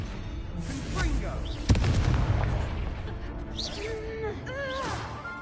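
A Confringo blasting spell goes off in Hogwarts Legacy, a sharp boom near the start of the second second, surrounded by game effects, whooshes and magical tonal swells rather than talk.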